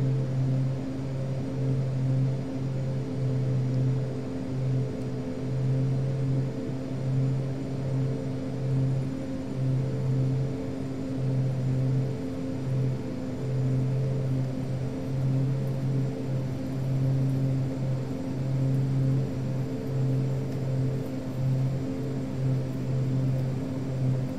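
Airplane engine droning steadily with a strong tonal hum and harmonics as the throttle is applied for takeoff, continuous and loud, with no voices.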